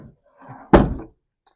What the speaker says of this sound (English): I want to close the top because the key's inside.